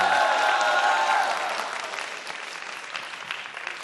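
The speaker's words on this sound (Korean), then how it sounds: "박수 부탁드릴게요." Studio audience on a televised science quiz show breaks into loud applause that fades gradually to a softer, scattered clapping.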